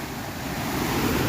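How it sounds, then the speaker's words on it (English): A waterfall roars close and loud as a dense, unbroken rush of water that stays level for the whole stretch, with no voices heard. "Molina, do you like the waterfall?"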